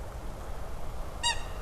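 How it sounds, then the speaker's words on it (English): Bird calling as it flies over at night at a former coke works site, a single short honking call that stands out briefly near the end over steady low background rumble. "The bird just flew over."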